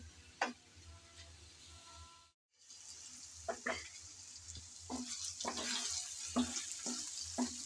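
Food cooking in a pan on the stove is stirred and mixed, giving a steady close sizzle broken by repeated scraping strokes of the spoon, with a brief pause partway through.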